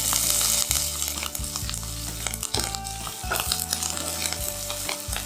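Curry leaves hit hot oil for a raw mango gravy, crackling and sizzling loudly up close with bursts of popping and stirring scrapes over a steady frying hiss.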